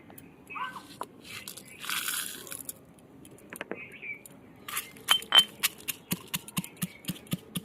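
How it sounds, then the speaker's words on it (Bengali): Roasted cumin, dried chilli and whole garam masala crushed in a grinder, with a series of sharp, crunchy pulses that grow more regular and rhythmic toward the end, close and fairly loud. "এই ভাজা মশলাটা আমি এবার গুঁড়ো করে নেবো"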